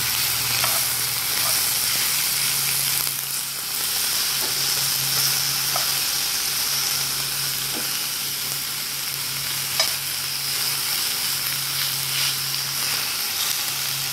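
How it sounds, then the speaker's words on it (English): Beef fajitas sizzling in a cast iron pan over medium heat, a steady hiss with occasional scraping and clinks as the meat is stirred around, close and continuous. "everything's cooking up nicely inside the pan. Gonna give it some stir around so that we can get that meat touching down there into the heat."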